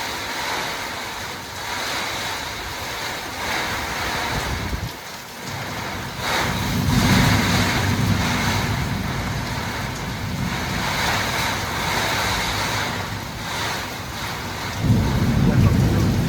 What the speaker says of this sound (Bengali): দেখতে পাচ্ছ ভয়ঙ্কর বৃষ্টি।